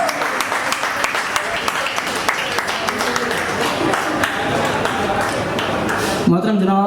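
An audience at a mushaira claps in a sustained round of applause with sharp individual claps standing out, while a host speaks over it near the end.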